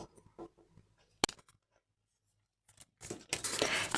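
Paper surprise packets are torn open up close, with crisp ripping and crinkling bursts early on, a near-silent pause, then a longer, louder stretch of rustling and tearing at the end.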